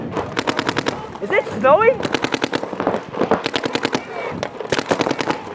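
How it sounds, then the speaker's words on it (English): Paintball guns fire rapid bursts in a snowy outdoor game, with rattling volleys close by, brief pauses, and players shouting and talking between the shots. "Everyone's shooting at me."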